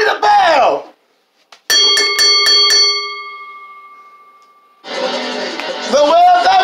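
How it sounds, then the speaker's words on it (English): A wrestling ring bell clangs several times in quick succession at the end of a match, its ringing fading out slowly; loud voices shout before and after. "Ring the bell."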